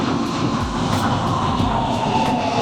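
A Tokyo Monorail train arrives with a steady, loud rolling rumble and rail noise that fills the whole stretch, with faint periodic clacks and no voices.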